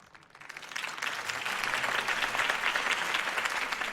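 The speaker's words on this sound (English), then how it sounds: "If only Mr. Wayne, my campaign's largest backer, could have heard that applause" Crowd applause in the Batman Telltale video game, a steady wash of clapping from a large audience that swells after a campaign speech and holds loud and dense throughout.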